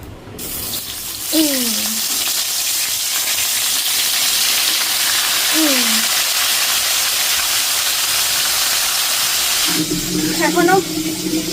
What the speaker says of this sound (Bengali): উচ্ছে ভাজার তেলের মধ্যেই দিচ্ছি মাছ